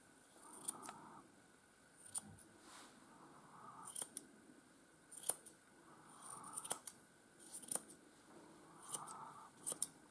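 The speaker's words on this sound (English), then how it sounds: "And you take the scissors and you cut the way down" Scissors snip repeatedly through the leg hair of a Miniature Schnauzer during grooming, giving crisp, close metallic cuts in irregular bursts with quiet combing sounds between them.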